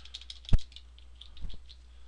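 A few keystrokes on a computer keyboard as a part number is entered, sparse faint clicks with one sharper tap, over a quiet background and no speech.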